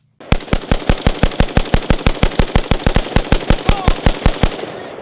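A VSKA rifle in a slam fire event, an uncontrolled rapid string of loud, closely spaced shots fired in a steady automatic rhythm for several seconds before stopping.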